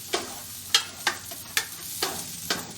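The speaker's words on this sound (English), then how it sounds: "now you can just mix in the onion for 1-2 minutes" Chopped onion stirred and fried in a pan for a plant-based Mexican dish: a soft continuous sizzle under six regular scraping strokes of the spoon, each a sharp short swish about half a second apart, close and fairly quiet.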